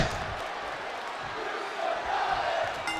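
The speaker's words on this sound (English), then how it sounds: "Someone in the crowd is chanting "You still got it."" A distant arena crowd in the WWE 2K20 wrestling video game chants in unison, a faint, steady roar with rising voices toward the end.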